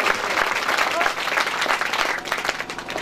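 Loud, dense audience applause at a Pothwari music event at Sehansa 2023, sustained and close throughout with crowd noise mixed in.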